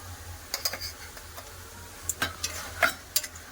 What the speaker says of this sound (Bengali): গ্যাসটা কম করে খুব ভালো করে তেলের সাথে কষে নেব